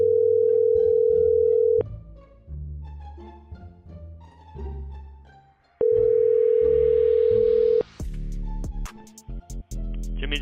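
Two sandwich shops, Jimmy John's and Subway, are dialed at once from one phone; steady ringback tones repeat in two long bursts between short beeps, then a shift into clicking connection sounds.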